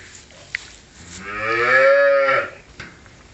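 A single long, loud moo from a calf close by, rising and falling over about a second and a half, with quiet background before and after.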